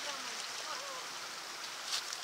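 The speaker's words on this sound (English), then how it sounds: "Nice little stream." A small stream at a campsite in Wolf Pen Hollow on the Ozark Trail gives a faint, steady rushing hiss throughout, with a voice faintly present in the background.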